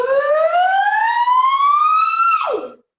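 A single voice imitates a siren, sliding smoothly upward in a long rising tone before dropping quickly and cutting off.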